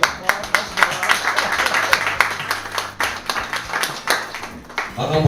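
Audience clapping at a cultural event, distinct individual claps in a loose rhythm rising and falling, loud and close, mixed with crowd voices and other sounds.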